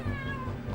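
A cat gives one short, faint meow, brief and alone without talk.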